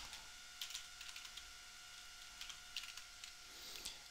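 Someone types a password on a computer keyboard, a faint run of light key clicks in small irregular clusters over a steady electronic hum, with no voices.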